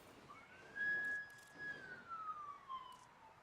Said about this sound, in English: There's sirens going by my house.